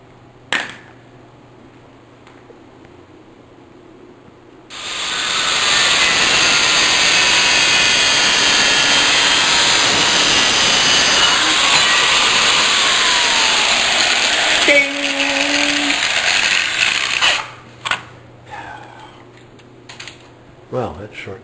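Angle grinder cutting through metal support stock for a water main, a loud sustained whine with a shifting pitch that runs about thirteen seconds before spinning down, with light clatter before and after.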